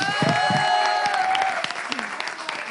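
A studio audience at a live show cheers and claps as a guest named Yannick is seen off, with sustained voices and scattered claps that fade gradually toward the end.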